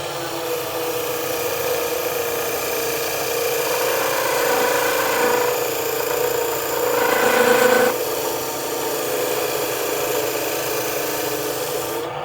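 A wood lathe spins a workpiece while a dull cutting tool scrapes against the turning wood, a steady close rasping drone that swells louder for a few seconds near the middle before easing back, with no talking.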